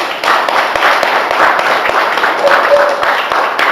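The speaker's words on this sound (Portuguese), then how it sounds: "Vou dar uma salva de palmas para vocês mesmo." A church audience of young people applauds at a youth ministry service, a dense and steady wash of many hands clapping close by that holds through the whole stretch.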